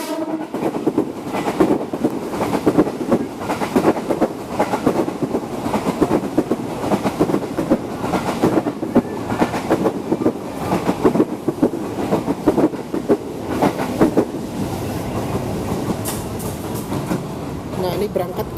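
A KRL electric commuter train rolls past nearby at Tebet station in Jakarta, rumbling with rhythmic clacking of wheels on rails, while a person talks over the steady noise.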